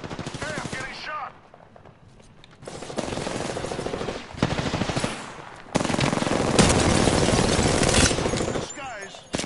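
Automatic gunfire in an Apex Legends match, loud bursts of rapid shots coming in several separate stretches with short quieter gaps, mixed with other game effects.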